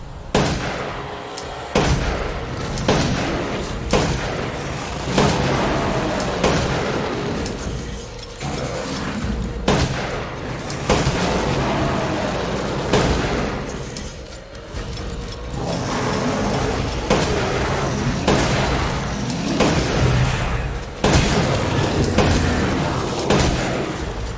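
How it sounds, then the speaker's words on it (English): Repeated heavy gunshots from the Wolfsbane in Resident Evil Village ring out against a lycan, loud booming blasts spaced every second or two over a dense, continuous game soundscape. "It's very easy to kill him with this gun."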